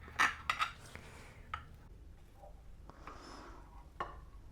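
A knife cuts through basbousa semolina cake in a pan, giving a few faint, quick scraping clicks against the tray near the start, then softer, sparse taps.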